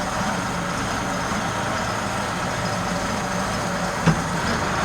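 A Unimog truck pulling away very slowly in first gear with a low crawl ratio, its diesel engine rumbling steadily and fairly loud, with one faint clunk near the end and no voices.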